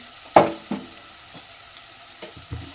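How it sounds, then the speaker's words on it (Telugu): Onions frying in a pan and being stirred, a few distinct scraping knocks of a spoon against the pan over a faint sizzle, close up and with no one speaking. "ఇవి మంచిగా ఆనియన్ గోల్డిష్ కలర్లోకి వచ్చేంత వరకు మంచిగా వేయించుకోవాలా"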